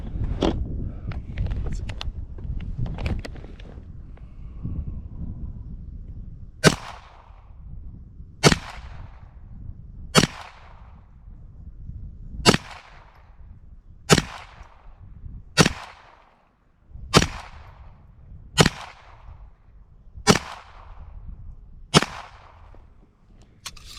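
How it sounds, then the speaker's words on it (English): A Browning Buck Mark .22 LR pistol fires high-velocity hollow points outdoors at a range, ten or so sharp cracks spaced about two seconds apart, after a stretch of wind and handling noise. "Let's see how the Buckmark does with high velocity hollow point 22s."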